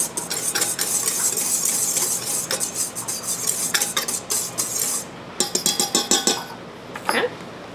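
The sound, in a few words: whisking rice flours, salt and sugar in a mixing bowl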